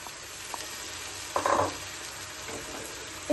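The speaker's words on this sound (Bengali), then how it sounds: "এখন আমি ডালটা অ্যাড করছি।" Chana dal tipped into a pan of frying tomato masala gives a short, loud burst of sizzling that settles back into a steady low frying hiss, with a faint clatter near the end.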